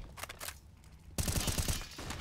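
Gunfire in a Counter-Strike match on the Nuke map, at first a quieter mix of distant shots, then a sudden loud burst of rapid repeated shots in a fast rhythm that fills the second half.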